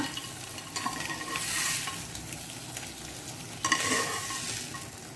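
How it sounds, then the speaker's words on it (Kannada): Eggs slipped one at a time into a pan of spicy pepper masala, giving a steady frying sizzle with brief brighter bursts as each egg lands, close and alone with no talk. "ಈಗ ನಿಧಾನಕ್ಕೆ ಈ ಮೊಟ್ಟೆಗಳನ್ನು ಒಂದೊಂದಾಗಿ ಇದರಲ್ಲಿ ಸೇರಿಸ್ಕೊಳ್ಳೋಣ"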